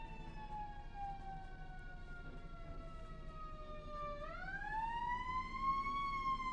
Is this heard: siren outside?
yes